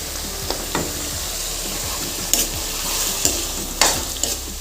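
Cabbage for veg chowmein fries in hot oil with a steady close sizzle, and a utensil stirs it with occasional sharp scrapes and clinks against the pan. No one speaks.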